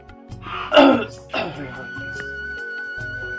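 A man in an Assamese comedy sketch lets out two rough, throaty coughs in quick succession, close and fairly loud, with a quiet hum of the room behind them.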